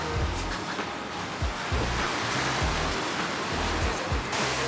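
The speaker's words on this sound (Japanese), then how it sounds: "こんな感じでね波の音" Ocean surf in Okinawa, heard from a hotel balcony, rolls and washes steadily, a broad hiss of breaking waves with a low, rumbling pulse, heard without any voices.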